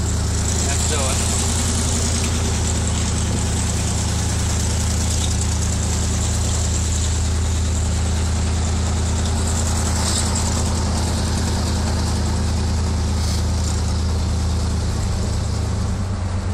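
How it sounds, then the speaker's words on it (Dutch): A Chevrolet Impala's engine idles with a steady low rumble and constant hum, loud and unbroken throughout, while people talk over it. "hij loopt net te langs op stationair"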